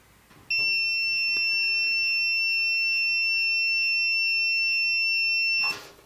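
A steady, high-pitched multimeter continuity beep sounds for about five seconds without a break while testing a Frigidaire/Kenmore warming drawer bake element, then cuts off, with faint handling noises at start and end.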